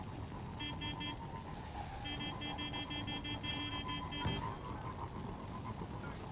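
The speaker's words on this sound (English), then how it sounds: "I don't know how you're honking your horn." A vehicle horn honking in a video game, repeated short electronic toots in bursts of a few beeps each, fairly faint over a game background rumble.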